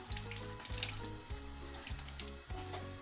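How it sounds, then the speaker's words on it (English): Running tap water rinsing fresh basil in a kitchen sink, a steady close splashing stream with repeated low rhythmic thumps as the leaves are handled beneath it. "Rinse my basil"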